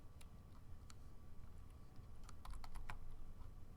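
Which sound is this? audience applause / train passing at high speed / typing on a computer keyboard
typing on a computer keyboard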